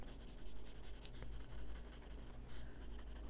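A pencil colors in a glass shape on paper with light, continuous scratchy strokes, soft and close, repeating in short back-and-forth passes with no voices.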